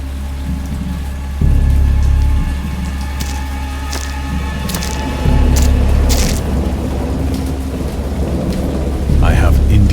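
A heavy thunderstorm from the Dagon video game, steady loud rain with deep rolling thunder that surges in waves, swelling sharply around the start, middle and end, with no talking.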